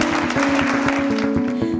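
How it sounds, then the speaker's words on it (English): Applause from a small audience closing a hemophilia podcast panel conversation: a steady patter of clapping across the whole moment over a faint, constant hum. "Real quick, round of applause for this really great conversation."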